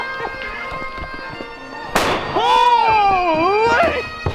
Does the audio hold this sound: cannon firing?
yes